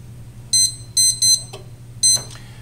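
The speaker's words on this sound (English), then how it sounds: "let me set the timer" A kitchen timer set while baking a cake gives a series of short, sharp electronic beeps in separate bursts, close and clear over a faint background hum.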